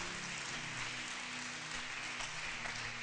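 A church congregation applauds to acclaim the Lord, a steady wash of clapping from many hands, fairly distant and even, with a low hum underneath and no voices over it.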